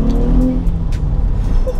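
A 490 BHP Audi B5 RS4 estate's engine runs loud and close at around 3,000 RPM, a low throaty rumble holding steady with a brief rise in pitch at the start.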